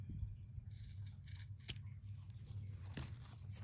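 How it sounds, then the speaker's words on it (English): Scissors snip through fabric and zipper tape during garment sewing, a few quiet crisp cuts spaced irregularly over a low room hum. "Make sure we trim all our zippers up"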